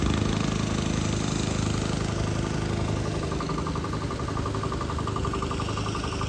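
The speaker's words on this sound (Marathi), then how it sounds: "आता पण एक ट्रॅक्टर लावतात." A tractor engine runs steadily in a farm field, a continuous mid-pitched idling rumble with a faint knocking pulse, loud and unbroken throughout with no talk over it.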